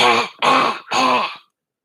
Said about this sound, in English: If you cough, cough like this.